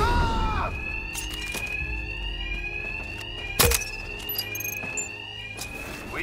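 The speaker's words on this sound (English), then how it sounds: "Hear me over the alarm." A fire alarm rings in the video game Batman: Arkham Knight, a steady, loud electronic tone pulsing continuously, with brief game sound effects and a sharp thud partway through.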